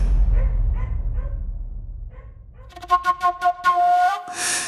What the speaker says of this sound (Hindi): और मारूक की ओर देखकर जोर जोर से भौंकने लगा।